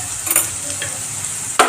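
Ground spices, chili powder, turmeric, masala and coriander powder, sizzle hot in a frying pan while a spoon stirs them, giving a steady loud crackle with a few scraping strokes and a sharp clink near the end.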